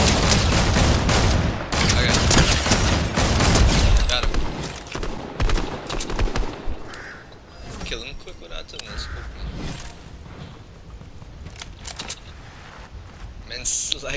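Rapid, loud shotgun fire crackles in the video game Fortnite, dense for the first few seconds and then thinning into scattered shots as players talk over it.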